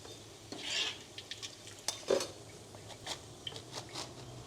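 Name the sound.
scooping fried pork cracklings out of the pan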